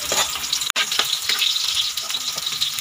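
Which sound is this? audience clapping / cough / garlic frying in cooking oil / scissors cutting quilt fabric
garlic frying in cooking oil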